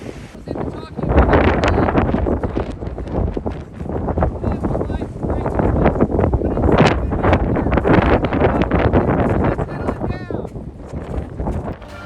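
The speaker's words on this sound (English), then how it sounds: "I know it was a little windier than we anticipated up on the top of the mount here." Strong wind gusts buffet the microphone on a mountaintop, a loud, steady roar with rising and falling surges that fill the whole clip.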